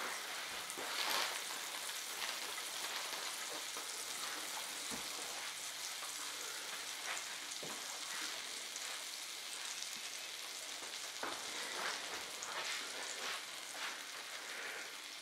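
Butter sizzles in a pan while bread toasts for eggs, giving a quiet, even crackle with soft pops throughout and no voices.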